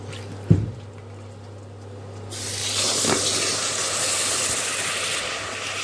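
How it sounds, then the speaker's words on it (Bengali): Two cups of water pour onto two cups of sugar in a pot to make syrup for sweet potato langcha, a steady, full liquid rush that follows a faint knock and runs on evenly to the end. "তাই 2 কাপ ভর্তি করেই জল দেব।"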